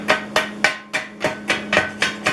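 A hammer knocking slag off a fresh weld bead, about eight sharp metallic strikes in a steady beat, close and loud with a ringing tail after each blow, no talking.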